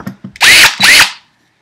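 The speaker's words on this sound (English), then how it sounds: "We are drilling the holes." A power drill bores holes in wood, with a couple of short trigger blips, then two loud whining bursts that rise in pitch and stop, close by with no talk.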